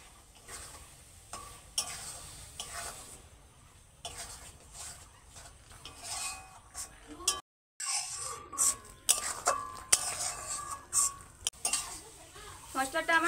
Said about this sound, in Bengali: টমেটোটা দেওয়ার পরও কিন্তু বেশ ভালো করে মশলাটাকে কষাতে হবে।